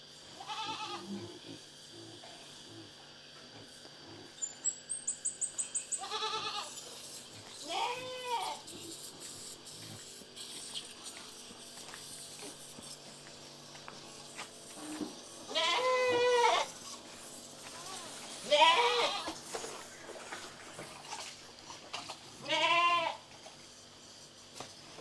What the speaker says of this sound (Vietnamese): Đây là lá xoan chị Ly chặt để cho con dê ăn đây.